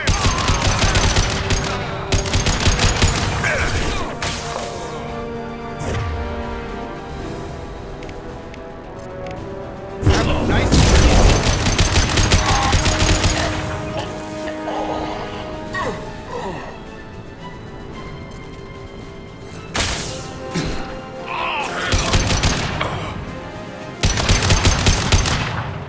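Automatic gunfire rattles in Mass Effect 2 combat, with loud sustained bursts, short pauses and repeated volleys of dense rapid shots.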